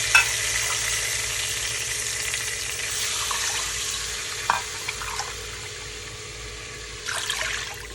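Masala with red chili frying in a pan for nargisi kofta, a steady close sizzle throughout with a few soft stirring clinks and a brief swell of bubbling near the end.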